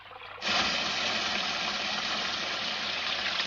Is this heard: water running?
yes